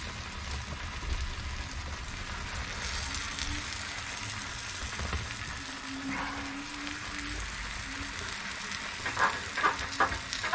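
Bell pepper goes into a pan of fish moqueca already cooking with tomato and onion, giving a soft steady sizzle and frying crackle, with faint clinks and stirring toward the end.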